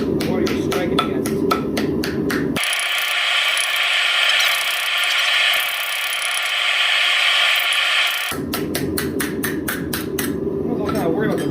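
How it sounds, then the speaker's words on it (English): Hammer blows on a homemade gas-tank swage block, a rapid run of loud hollow metallic strikes, a pause of grinding rattle, then another fast burst of ringing hits, up close. "that kind of hollow sound, means you're not hitting the bottom of what you're striking against"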